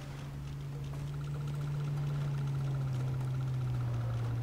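A vehicle engine in the video game Goat Simulator drones loud and steady in a low register, holding close and alone with only a slight shift in pitch near the end.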